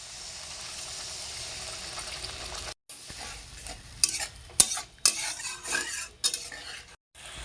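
Spice paste and the rinse water from a grinding stone are added to a frying pan for a duck egg kalia, with hissing sizzle and a spoon scraping and stirring in irregular bursts, briefly cutting out.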